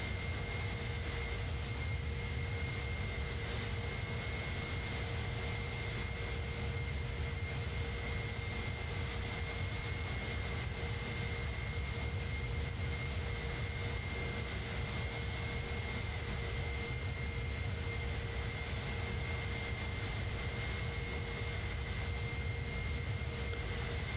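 Airbus A310 jet engines in Microsoft Flight Simulator 2020 on a Belgrade to Istanbul flight, a steady, unbroken roar with a constant whine and hum, droning evenly throughout at moderate loudness.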